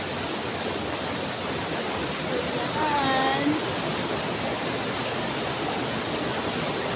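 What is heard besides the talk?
river water flowing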